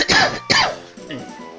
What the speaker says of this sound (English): I don't know why I'm coughing so much.